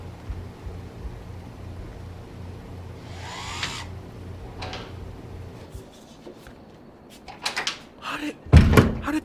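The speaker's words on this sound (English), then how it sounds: "How did they just unlock the door?" A door being unlocked and opened in a house while its chain is still fastened: a low steady hum, then a sharp cluster of clacks and a loud thump as the latch and door move, close and fairly loud.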